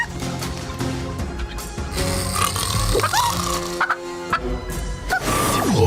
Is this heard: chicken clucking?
yes